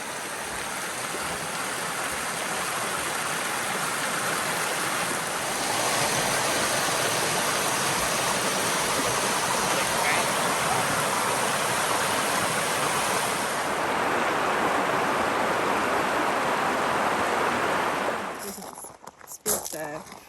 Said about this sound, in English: Boy, this creek is flowing really swift.